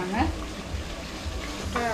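Onions, tomatoes and turmeric sizzle softly in a pan, with a faint stirring scrape and a quiet voice in the background.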